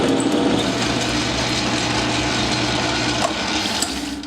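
A 9-inch South Bend lathe fitted with a negative-geometry toolholder cuts leaded steel stock under heavy load, making a loud, steady grinding machine drone that eases slightly toward the end.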